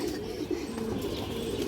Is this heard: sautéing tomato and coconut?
no